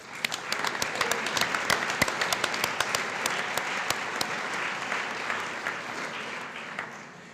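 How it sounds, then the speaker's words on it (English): An audience at a high school awards night claps for award winners, a dense, even spread of many hands with crisp individual claps poking through, sustained for several seconds before tapering. "Let's give them all a round of applause."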